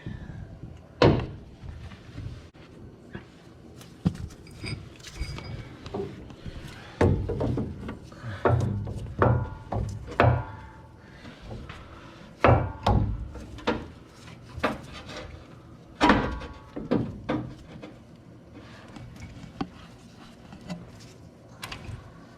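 A new CV axle shaft slides from the back into the front hub of a 2004 Ford F150 4WD, with scattered close metallic knocks, clunks and scraping rubs at irregular intervals.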